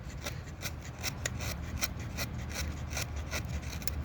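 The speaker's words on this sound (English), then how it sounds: "I love the sound of a knife." A knife carving a hand-carved wooden pumpkin, with steady close scraping and rasping cuts into wood in quick repeated strokes, moderately quiet, with no talk.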